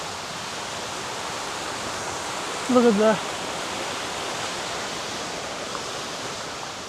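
A river in Baxter State Park, Maine, rushes in a steady, even roar of flowing water, with a person briefly speaking over it partway through.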